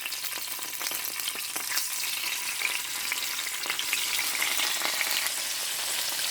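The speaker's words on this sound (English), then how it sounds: "we will fry that one until that will become slightly golden brown" Tofu cubes sprinkled with salt fry in a pan toward golden brown, giving a steady, dense crackling sizzle throughout with no voices.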